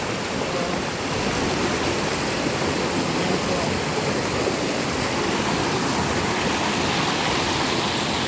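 Strong river current rushing over rocks at a bathing and laundry spot, a steady, loud, broadband roar of flowing water filling the whole stretch without pause.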